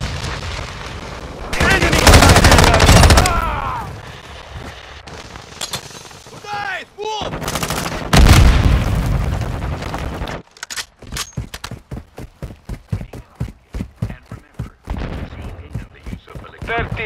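Rapid bursts of automatic gunfire crackle in Call of Duty Modern Warfare, with heavy blasts early on and a long string of sharp, evenly spaced shots near the end, loud and close, mixed with game voices.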